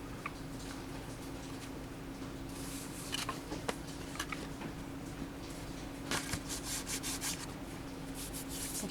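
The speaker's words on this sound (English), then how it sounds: "Make sure you burnish it." A glued paper mini milk carton box is burnished by hand, steady close rubbing and scraping strokes with occasional sharper brushing bursts, no talking.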